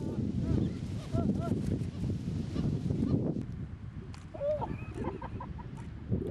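Seagulls calling around fishermen cooking freshly caught sardines on the Omani coast, scattered honking squawks over a busy background of voices and outdoor clatter.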